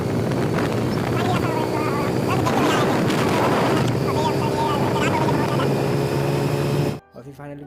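A motorbike ridden fast along a village road at dusk roars with engine drone and heavy wind buffeting for several seconds, then cuts off abruptly near the end.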